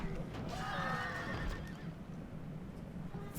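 Horses whinny in the Rome Total War battle game, a clear neigh rising near the start over a bed of galloping hooves and low battle rumble.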